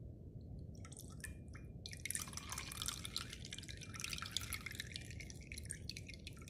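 Grated coconut is squeezed by hand to press out coconut milk, giving a wet squishing and a steady trickle of dripping liquid, close and soft, with louder splashing bursts midway.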